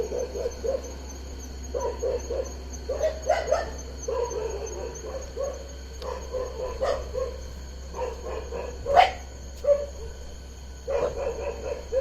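Dogs at a jungle resort in Rajaji National Park give repeated short barks and yips in irregular bursts at moderate distance, with one louder sharp bark standing out, over a steady low hum.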